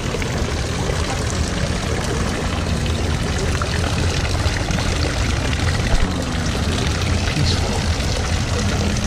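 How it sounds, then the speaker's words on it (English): Steady, dense rushing water fills the whole stretch, a constant broadband roar like falling water pouring into a pool, from a resort pool waterfall at Aulani, with no pauses. "It's so peaceful with the waterfall."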